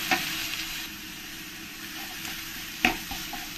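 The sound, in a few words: onion paste sautéing with fried onions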